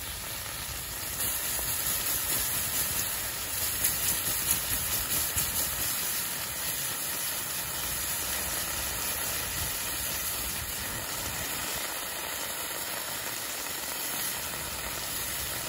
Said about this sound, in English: the metal's so hot in that portion in the back there that it creates an insulating barrier of steam between the water and the metal